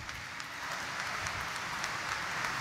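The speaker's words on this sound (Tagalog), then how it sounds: "Ibigay natin ang pinakamalakas na palakpak" A crowd applauding steadily at a church Mass, a dense patter of many hands clapping at moderate volume, swelling slightly after the first moment.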